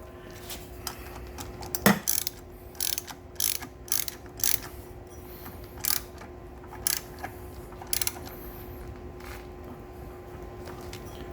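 A ratchet wrench tightens a bolt with washers on the jackshaft of a Mega Moto 212 minibike, making short bursts of clicking at a steady pace over a constant low hum.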